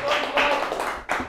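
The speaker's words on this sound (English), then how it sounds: "let's get another round of applause." A studio audience on a sports talk segment claps in a short burst of applause, with voices mixed in over the clapping.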